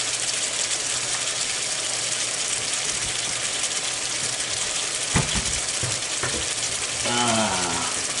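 Shrimp curry bubbles and sizzles steadily in a covered pan, a continuous frying hiss throughout, with a couple of brief clinks near the end and a faint voice-like murmur at the close.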